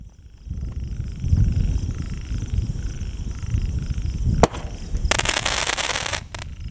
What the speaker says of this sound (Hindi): और ये चल रहा हमारा सनशाइन का इसका शॉट